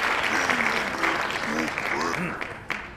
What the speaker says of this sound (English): let's give those students a big round of applause.